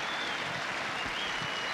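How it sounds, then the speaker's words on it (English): Crowd at a men's tennis semifinal at Indian Wells applauds, a dense, steady wash of clapping heard at moderate distance and fairly soft, without a break. "big hand from the crowd"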